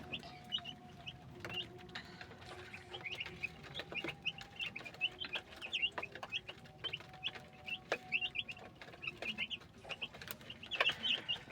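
Chickens cluck and chatter in a farmyard with ducks nearby, a dense run of short calls scattered across the whole stretch, moderately close, with faint mechanical background hum and no talking.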